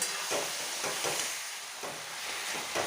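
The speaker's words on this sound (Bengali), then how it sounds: "এই চিকেনগুলি একটু এই পেঁয়াজ আর টমেটোর সাথে ভালোভাবে ভেজে নেব" Chicken pieces fry with onion and tomato for an aloo chicken curry: a loud, continuous hissing sizzle, pulsing with repeated stirring strokes.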